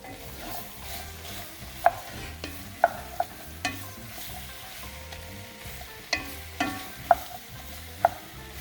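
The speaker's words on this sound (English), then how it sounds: "And we're going to stir that in." Diced onion, celery and green pepper stirred in a pot for gumbo, a soft continuous sizzle with scraping spoon strokes and several sharp clacks against the pot at irregular intervals.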